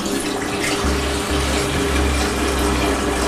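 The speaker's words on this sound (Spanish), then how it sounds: "ponemos una olla y vamos a echarle agua." Water runs steadily into a cooking pot on the stove, a constant close rushing and splashing with a low hum beneath, no voices.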